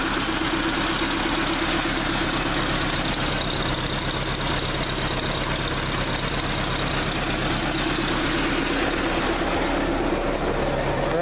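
A boat's inboard engine idles steadily just after starting, with a continuous low, even chug and a mechanical knock running throughout, close and fairly loud, with no voices.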